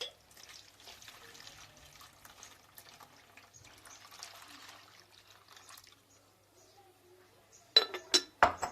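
Milk, three and a half glasses' worth, trickles softly into a bowl for a few seconds, followed by a few sharp clinks of glass near the end; a voice speaks quietly.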